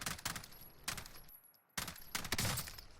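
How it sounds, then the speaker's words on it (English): AUG rifle gunfire in the video game Cold War Warzone: sharp, rapid automatic bursts in two loud clusters separated by a brief near-silent gap, with a faint ringing tone above. "And then here's some AUG gameplay."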